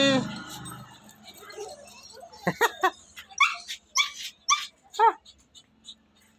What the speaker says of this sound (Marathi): पिल्लू आहे ती.